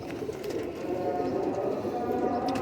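Pigeons coo softly amid a steady background hum outdoors, low murmuring calls repeating under a faint hubbub, with a voice briefly audible.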